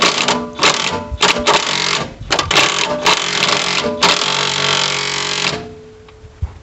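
An impact wrench with a 1 1/8 inch socket works a track tensioner on a Vermeer CTX-160 compact track loader, giving loud, dense rattling hammering in repeated bursts that stop abruptly at the end.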